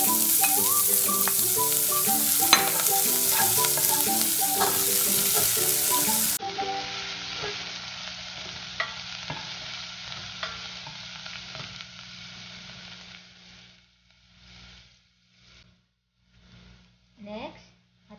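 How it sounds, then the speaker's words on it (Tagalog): Garlic and onion frying in a pan for lugaw make a loud, dense sizzle with stirring clatter that thins and fades to faint crackles and scattered pops, under occasional speech. "Hintayin natin mag-golden brown ang ating bawang. So, ilagay na natin yung ating sibuyas."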